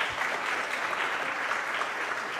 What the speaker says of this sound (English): can we get some applause for that?